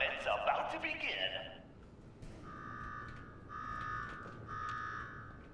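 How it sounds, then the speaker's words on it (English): An alarm sounds in the video game Fallout 4, steady repeating electronic tones in short pulses that follow a brief burst of other game noise, fairly faint in the mix. "Now go shut off that damn alarm."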